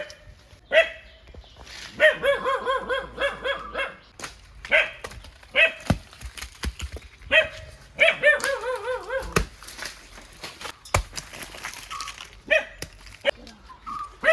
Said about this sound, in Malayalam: നിന്റെ പട്ടിക്കുട്ടി മിണ്ടാടിക്കാൻ പറയുമ്പോൾ മിണ്ടാടിക്കണല്ലോടാ.